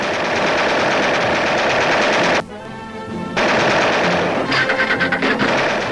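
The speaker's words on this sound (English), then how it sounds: "sharpshooters learn to use aerial machine guns, training their fire upon small discs hurled by a machine into the air" Aerial machine guns fire from a model bomber's gun turret at small airborne discs during 1943 gunnery training. Loud, sustained bursts of rapid automatic fire break off briefly, then resume as a steady chattering stream, close and harsh.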